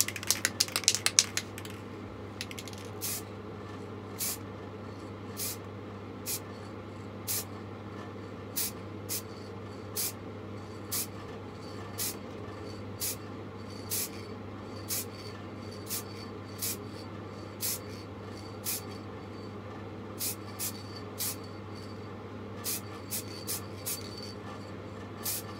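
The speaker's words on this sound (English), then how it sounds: "So now this is dry, I'm gonna give it a spray of silver." Short, sharp hissing bursts from a can of silver spray paint repeat at a regular pace over a low steady hum, each puff brief and close, painting custom Cyberman heads.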